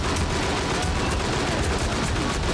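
Turrets fire in the Haze video game, a dense, loud, continuous barrage of rapid gunshots that fills the whole stretch without a break.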